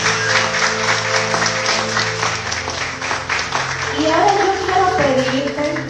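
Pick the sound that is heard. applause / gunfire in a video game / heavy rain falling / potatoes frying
applause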